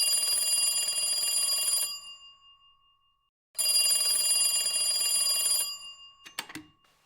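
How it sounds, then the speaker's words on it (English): An old telephone bell rings loudly in two long bursts of about two seconds each, separated by a silent gap, then a short rattle of handling follows. "when the phone rang"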